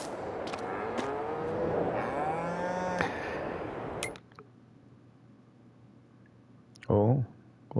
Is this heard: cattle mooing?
yes